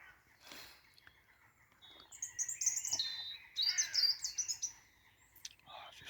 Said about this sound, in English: all you can hear is the birds. There's the birds.